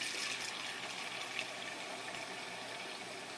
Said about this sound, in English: I'm going to take a bowl and I'm going to fill it with very hot water, which we have very hot water at the tap.